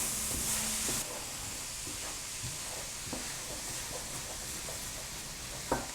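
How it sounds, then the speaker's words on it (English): Carrots and other vegetables with chickpeas sizzle in a stir-fry pan as a steady broadband hiss, broken by a few soft stirring scrapes and a sharper clatter near the end; nobody speaks. "Now that the vegetables are close to done, then add the chickpeas."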